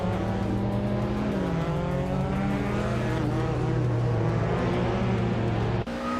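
A BMW 320Si race car engine in a racing video game drones steadily and loudly at high revs, its harmonic whine holding throughout before a brief dip near the end, with no talk over it.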